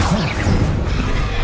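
Spell effects from the video game Hogwarts Legacy, Incendio and Confringo: a quick fiery whoosh and crashing burst, loud and close, over a rumbling game background.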